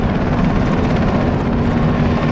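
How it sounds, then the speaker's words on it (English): An American helicopter from Battlefield Iraq thrums steadily and loudly overhead, a dense continuous rotor rumble with no voices. "I think that might be an American helicopter flying overhead"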